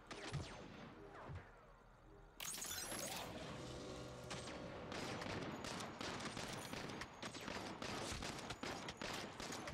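Rapid bursts of automatic gunfire and scattered shots in Saints Row (2022), loud and continuous after a sudden onset, with crashing impacts and little talk.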